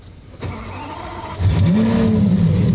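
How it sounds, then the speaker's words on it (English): A Lamborghini Aventador started with the key cranks briefly, then its engine catches and flares into a loud, rising rev before settling into a strong, steady idle close by. "you can start the car like that without actually pushing the fob wireless start-stop button"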